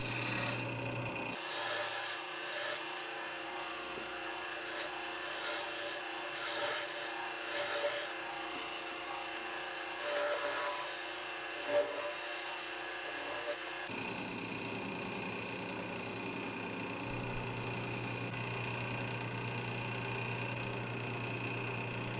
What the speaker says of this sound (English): Here I'm just cutting out the mortise, which I'll use when I reverse mount this onto the chuck.